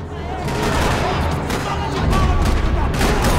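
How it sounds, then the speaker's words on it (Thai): Dense, sustained gunfire from the Max Payne 3 video game rattles continuously in loud overlapping bursts, close and unbroken throughout, with a voice faintly present underneath. "rattling with gunfire"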